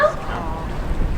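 Sea lions barking at Pier 39, a few short yelping calls close by at the start, then a busy outdoor waterfront din with a voice talking underneath.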